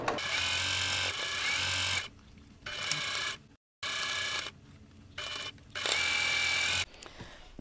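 A sewing machine stitches a 1/4 inch seam to join two halves of a quilt block, running in several loud, close bursts separated by short pauses.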